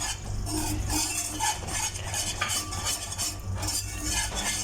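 A whisk beats a lumpy gram flour mixture for Mysore pak in a pan, giving rapid, continuous rhythmic scraping and clinking strokes up close, with no talking.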